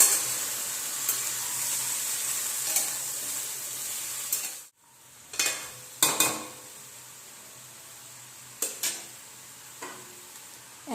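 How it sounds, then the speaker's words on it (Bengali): Mixed vegetable curry with turmeric and salt frying in a pan, a soft continuous sizzle broken by scraping stirs and a few sharp clinks of a spoon against the pan. "আমি ভালো করে নেড়ে দেব।"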